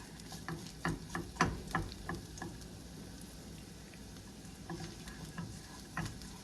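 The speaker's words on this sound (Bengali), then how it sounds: "একটু ভেজে নিলাম, বেশি ভাজা যাবে না" Chopped garlic and fresh ginger fry in a pan with a light sizzle and a few scraping stirs, busy at first and then settling to a quieter crackle.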